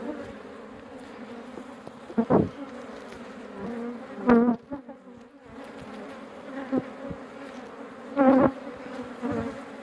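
Honeybees buzz steadily and close by around a hive with its queen, a dense droning hum with individual bees swelling louder as they pass near.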